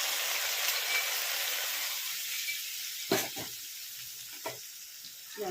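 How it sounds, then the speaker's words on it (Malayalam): Fried coconut and ghee hitting chickpea payasam set off a brief hiss that quickly fades, followed by a few soft clinks and stirring sounds close by. "ഇനി ഈ ഉള്ള തേങ്ങയും നെയ്യും എല്ലാം കൂടെ നമുക്ക് ഇതിലോട്ട് ഒഴിച്ചു കൊടുക്കാം."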